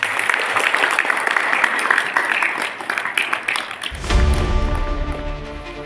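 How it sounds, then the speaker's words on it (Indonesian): Participants at an acting workshop held by the East Kalimantan cultural park applaud together in a steady crackle of clapping, which gives way after about four seconds to a swell of music. "Tepuk tangan dulu untuk kita semua."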